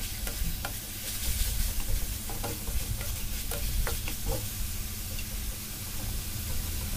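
Pork stir-fried in an oiled pan with oyster sauce, a steady loud sizzle and hiss throughout with scraping stirring strokes, close up and without talk.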